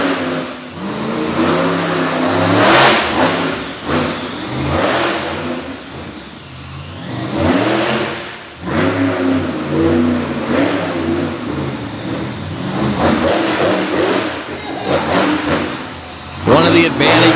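Monster truck engine at a MEC freestyle event, revving loudly and surging as the truck swings left and right, the roar rising and falling continuously under an announcer's commentary.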